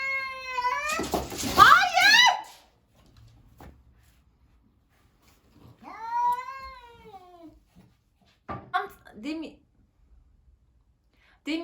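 A cat meows loudly and insistently near the listener, a drawn-out wail followed after a pause by a second meow and a few shorter calls.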